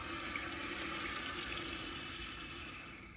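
Water from a garden hose jet pouring into a bucket, a steady close rushing splash that holds evenly and eases slightly at the end.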